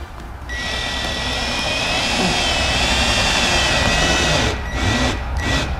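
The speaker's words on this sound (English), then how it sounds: "I'll just try and drill a hole through and see how it turns out" A drill bores a hole through a car's front lip on a turbo Miata, making a loud, continuous high whine close by that runs for several seconds before dropping out in short bursts near the end.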